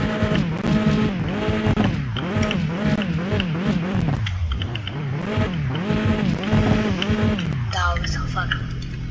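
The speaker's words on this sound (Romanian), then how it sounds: "Vom face o pornire, test, fără evacuare, să vedem dacă o lăsăm fără țeavă sau cu țeavă." BMW engine running with the exhaust pipe removed, a loud, raw, continuous roar with rhythmic revs rising and falling close by, and voices talking over it.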